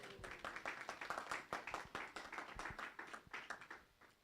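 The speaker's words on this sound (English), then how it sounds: "give him a big round of applause and a big Haribol" Scattered hand clapping at an ISKCON education seminar, fairly faint and uneven with individual claps standing out as a small audience gives a round of applause.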